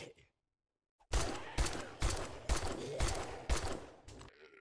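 Gunfire in a video game: a run of six or seven heavy, evenly spaced shots with reverberant tails after a short quiet gap, ending in a quicker double shot, no talking.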